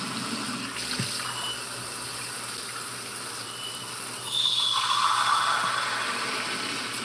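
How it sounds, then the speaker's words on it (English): Water is poured into a coffee maker: a steady, fairly quiet splashing and trickling stream that grows slightly louder partway through, with faint mechanical clicks and no talk. "the first part is putting the water in the coffee"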